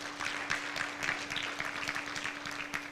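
An audience at a safe motherhood conference claps for an honorable minister, a faint, continuous patter of many hands that holds steady for a few seconds.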